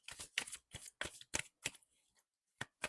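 Tarot cards are shuffled in quick, crisp riffling bursts, close and quiet. A short pause breaks the run before a few more snaps.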